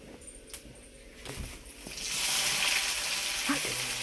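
Cumin seeds and curry leaves hit hot oil for a dal tempering, and a steady sizzle swells up and holds, close and fairly quiet, after a few light kitchen clatters.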